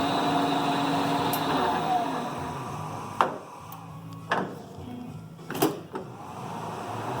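A Clausing Colchester 12 gear head lathe runs at 210 RPM with a steady mechanical hum, broken by a few sharp clunks and knocks as the gear lever is shifted.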